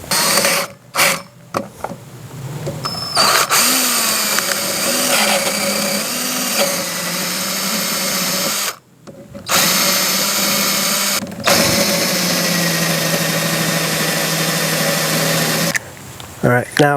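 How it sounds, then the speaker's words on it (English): A power drill bores out a stuck part on a Yamaha TMAX scooter, whirring loudly up close in long grinding runs broken by a few short pauses as the bit catches and restarts. "as a last resort, I'm going to have to drill it"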